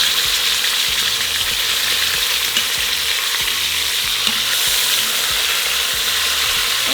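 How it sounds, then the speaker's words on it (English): Birria meat browning in an Instant Pot, a loud, steady close sizzle that continues without pause, with soft irregular pops and crackles underneath. "So now we're going to brown our meat for a couple minutes on each side."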